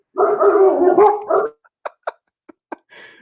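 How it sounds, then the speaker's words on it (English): Dogs barking on a live card show broadcast: a sustained whining vocal sound, then about five short, sharp barks in quick separate bursts, close and fairly loud. "You knew eventually on a live show you would hear the dogs."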